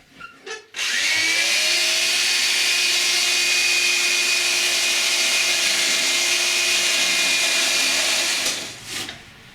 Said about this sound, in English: So I mark where I need to cut and start trimming.